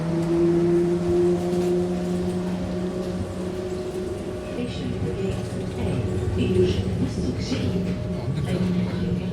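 Dubai airport metro train running, a steady low rumble and hum of the carriage with tonal whine and rattling, heard from inside and close, with people talking over it.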